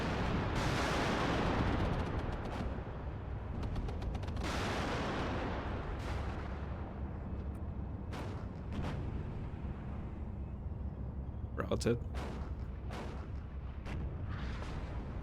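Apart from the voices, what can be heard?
gunfire and artillery in video game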